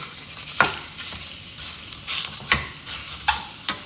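Sausage for a ragu sizzles and spits in an overly hot pan, a steady broadband fry with sharp crackling pops and utensil scrapes as the meat is broken up and stirred, close and fairly loud, no voices.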